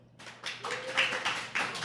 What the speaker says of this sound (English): Audience, I want you to clap if you're Marvel or DC.